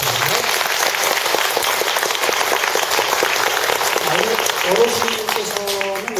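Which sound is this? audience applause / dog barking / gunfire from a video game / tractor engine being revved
audience applause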